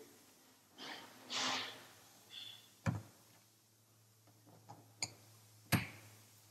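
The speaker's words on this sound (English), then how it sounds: "We tighten them down till they all click, click, click." A torque wrench clicks as the bolts on a Macnaught MX Series flow meter are tightened: a few sharp, isolated clicks spaced seconds apart in a quiet room, with faint handling noises between them.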